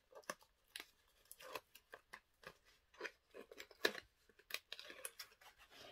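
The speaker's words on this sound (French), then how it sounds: "Les derniers scotch de la page numéro 7." Adhesive tape torn and pressed onto a photo album page: a quiet, close series of short irregular rips and crinkles, sparse at first and then busier.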